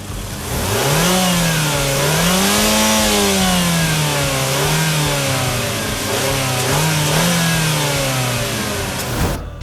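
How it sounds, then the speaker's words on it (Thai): Used 2016 Mazda CX-3 2.0S automatic, engine revved repeatedly from idle, rising and falling in several smooth swells, loud and close with no talk over it. "ไปฟังเสียงเครื่องยนต์กันครับ"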